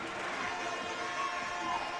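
Adrian College hockey fans stand and cheer in the arena during a men's NCAA ice hockey quarterfinal against St. Norbert. The crowd noise is steady and fairly distant, and clapping can't be picked out clearly.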